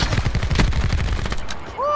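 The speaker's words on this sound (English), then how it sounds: "Hey, they're shooting my stuff down." Rapid video game gunfire from Black Ops 4, dense bursts of automatic shots rattling loudly and continuously through the whole stretch, with a faint rising electronic tone near the end.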